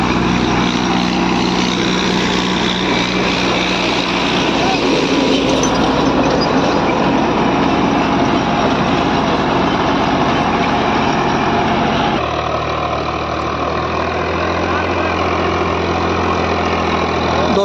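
A tractor hauling a rotavator, set against an Arjun 555 working alongside, with a heavy continuous engine drone and churning soil noise throughout. The pitch and texture shift partway through, and no voices are heard.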